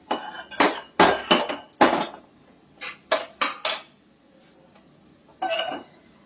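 A spoon mixes spiced, salted cauliflower in a bowl, giving close, bright clinks and scrapes in quick clusters of two to four strokes, separated by short pauses.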